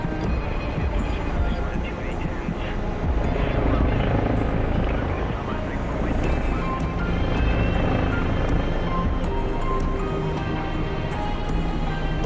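Mi-24 Hind attack helicopter in a video game, a loud continuous rotor and engine drone filling the scene, with talking over it.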